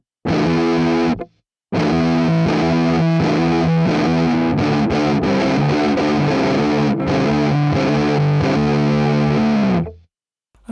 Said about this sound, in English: Now for some distortion.